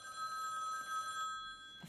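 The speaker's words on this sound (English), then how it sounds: "now he's calling John on his telephone" In a scene from the John Wick film, a telephone rings with a sustained bright electronic tone that stops near the end, clear but quiet with no one speaking.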